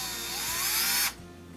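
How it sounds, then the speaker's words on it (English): Power screwdriver backing Phillips head screws out of a Thermador oven control: one steady high whine for about a second, then it stops abruptly. "Take out a couple of these Phillips head screws."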